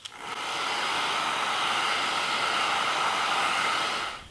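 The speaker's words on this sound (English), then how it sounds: "You can use a hairdryer to make this dry a little bit faster." A hair dryer blows steadily on aluminum leaf sizing, giving a loud, continuous whooshing hum that runs for about four seconds and then cuts off.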